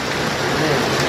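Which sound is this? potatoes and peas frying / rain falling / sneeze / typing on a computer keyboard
rain falling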